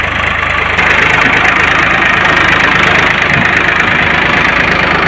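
A loud engine rumbling steadily at idle, close up, with a constant low throbbing and no breaks.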